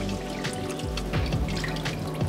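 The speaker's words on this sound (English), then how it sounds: "One and a half cups of water." Water poured from a measuring cup into a cooking pot already holding pasta and chicken broth, a short continuous splashing trickle close by with no talking.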